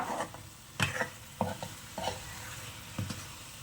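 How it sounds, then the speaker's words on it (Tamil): Prawn fry masala is stirred in a hot pan, with a soft sizzle beneath a series of distinct spoon scrapes and knocks coming every half second or so, close and clear, no talking. "ஸோ நல்லா மிக்ஸ் பண்ணுங்கள் அந்த மசாலாவோட பச்சை வாசனை எல்லாம் போகிற அளவுக்கு நாம் மிக்ஸ் பண்ணணும்"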